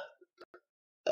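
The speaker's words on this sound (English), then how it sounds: "that coffee and carbonation is making me burp" A short burp after drinking a carbonated coffee-flavoured vodka cooler, brief and close, between small mouth sounds and near silence, followed by the start of a voice.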